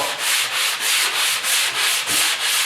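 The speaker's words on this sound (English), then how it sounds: "we're going to stroke it with coarse first, because that's going to straighten everything out" Coarse sandpaper scraping back and forth over a drywall patch in a wall repair, about eight rhythmic, even strokes, close and loud, with no talking.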